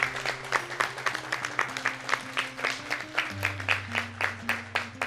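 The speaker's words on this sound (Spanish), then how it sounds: "Un fuerte aplauso." Studio audience applause for a nominee on a singing competition show, a quiet patter of many hands clapping in quick rhythmic bursts over sustained background music with a low bass note.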